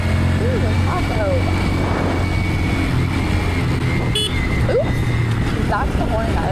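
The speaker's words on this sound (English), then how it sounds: "Oops, that's the horn, guys." A motorcycle horn sounds once in a brief, sharp honk over loud, steady engine and wind roar while riding on a road, with a person talking.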